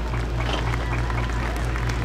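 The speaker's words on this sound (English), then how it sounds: "How about a big round of applause, folks?" Crowd applause at an agricultural fair horse pull, a steady wash of clapping held at even loudness over a low constant hum, with no break across the short stretch.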